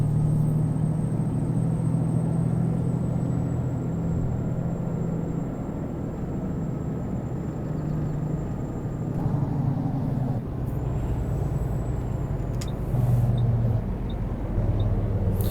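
A Western Star truck in American Truck Simulator pulling into a stop, its engine a steady low rumble with a faint high whine, easing down before a brief hiss of air brakes near the end.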